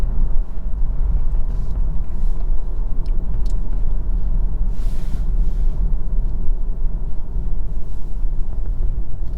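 A 2023 BMW 330i LCI accelerating hard, its engine a low steady rumble with heavy road and wind noise inside the cabin, sustained and loud with no talking.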